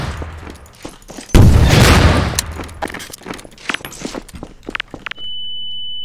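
Gunshots ring out in a Garry's Mod game playing Slendytubbies 3. One loud blast roars at first, then a string of sharp, irregular shots and thuds follows, ending in a steady electronic tone.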